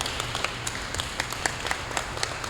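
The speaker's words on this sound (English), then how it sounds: "give him a well-deserved round of applause" Sparse, faint clapping from an audience for an award recipient at a Peace Runners gathering at Major Adams Academy, with individual claps standing out over a low background.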